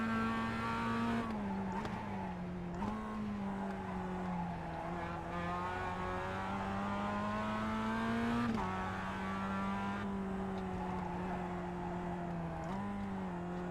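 Mazda Cup race car engine in the iRacing simulator at Summit Point Jefferson, droning loudly at high revs through steady lap driving, with abrupt pitch drops on gear changes and braking, then revving back up.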